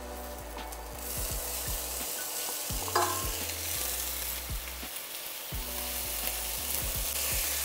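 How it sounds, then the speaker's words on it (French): Steady sizzling of lardons frying in hot oil in a saucepan, with occasional stirring scrapes and a low hum underneath, no voices. "dans notre casserole, on va verser notre huile. Venir verser nos lardons dedans."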